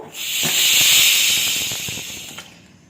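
A pressure cooker whistle, cooking rice and lentils over a medium flame, hisses loudly as steam escapes, a sustained high shriek that swells and then fades away, with small clicks near the end.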